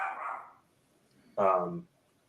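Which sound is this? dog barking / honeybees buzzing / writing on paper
dog barking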